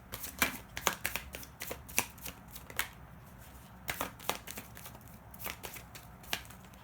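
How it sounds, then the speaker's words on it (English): Tarot cards being shuffled by hand, a quiet, close riffle of snappy card flicks and slaps in irregular bursts with no talking. "I'll pull a couple more cards to do this up."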